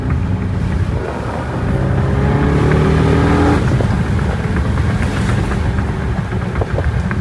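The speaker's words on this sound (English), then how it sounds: "It's so different when you can actually hear the supercharger." The Hennessy Jeep, serial number 1, revs hard from inside the cabin, a loud throaty engine roar rising in pitch with a climbing supercharger whine, then settling into a rumbling drone.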